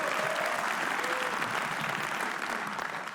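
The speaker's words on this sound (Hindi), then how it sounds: "सोलंकी के लिए तालियां बजा दो आप लोग." Dense audience applause for comedian Ashish Solanki at a comedy roast, a full crowd clapping continuously and loudly, faint voices mixed in, tapering slightly toward the end.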